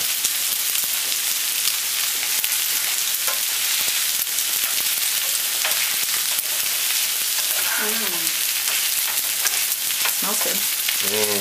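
Thai pad see ew stir-fried in a pan gives a loud, steady sizzle with scraping stirs, and brief voices come through faintly near the end.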